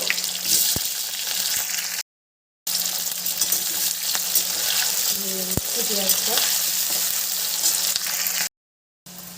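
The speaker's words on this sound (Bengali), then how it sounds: "এবার দিয়ে দেব পেঁয়াজ পেঁয়াজটাকে ভালো করে ভেজে নেব" Onions frying in hot oil with whole cumin seeds and dried red chilies, a steady close sizzle with a few stir scrapes and brief dropouts in the sound.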